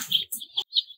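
Cornish Cross meat-bird chicks, newly unboxed and set into a brooder, give a few high, thin peeping chirps in quick succession, close and fairly clear, with no talk.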